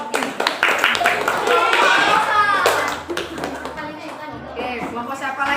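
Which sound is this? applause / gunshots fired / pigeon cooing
applause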